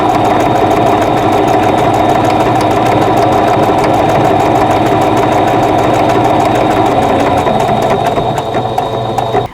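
A sewing machine stitching Christmas cottage embroidery blocks runs loud and close in a fast, even mechanical rhythm for nearly the whole stretch, then slows and stops at the end; no voices.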